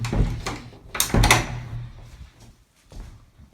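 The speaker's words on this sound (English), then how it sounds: "just pull this door through" A house door is pulled open during a property walkthrough, giving a few wooden knocks and thuds with a rubbing creak, close and moderately loud, with no speech.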